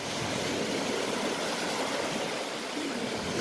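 Waves wash steadily onto the shore by the Church of the Primacy of Peter, a continuous, even rush of water with no breaks, heard alone without voices.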